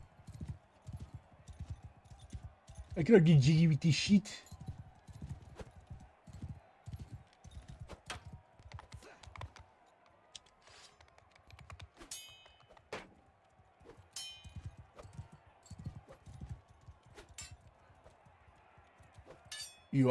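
Horse hooves clopping in a sword-fighting video game, a loose run of light, uneven clip-clop steps at moderate distance beneath speech, with a louder burst of clatter early on and scattered sharp clinks throughout.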